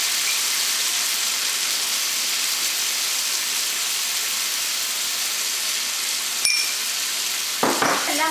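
Sliced onions sizzling steadily in hot coconut oil in a pan, with a dull clink near the end as tomato and salt go in for a Kerala tomato theeyal; no voices.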